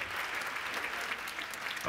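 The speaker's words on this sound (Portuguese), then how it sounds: "Agora que já aplaudimos Tiago Carvalho, eu próprio vou aplaudir." A cinema audience applauds in a short, steady patter of many hands, fairly soft and even, rising slightly just at the close.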